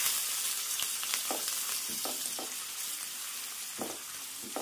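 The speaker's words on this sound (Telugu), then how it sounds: "కొంచెం కరివేపాకు కూడా వేసుకొని బాగా వేపుకోవాలన్నమాట ఉల్లిపాయలు" Onions fry with green chilies, cloves and curry leaves in a pan for a dhaba-style spinach chicken curry, a soft, even sizzle with occasional light stirring clinks.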